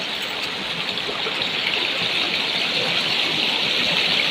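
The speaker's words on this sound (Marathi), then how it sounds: "म्हणजे पाठीमागे धबधबा आहे छोटासा" A constant rushing hiss of a small waterfall beside farm fields after unseasonal rain near Jalgaon, steady and fairly close with no voices.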